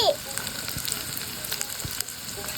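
Chopped onion, chili and garlic frying in mustard oil, a loud, continuous close sizzle with a few light crackles, no voices.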